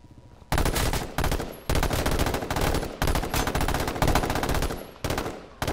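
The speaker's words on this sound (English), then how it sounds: "I'm going to start shooting at him." Bursts of automatic gunfire in the battle royale game H1Z1, loud rapid volleys in several long sustained stretches separated by brief pauses, with no talking.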